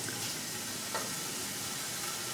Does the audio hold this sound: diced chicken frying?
yes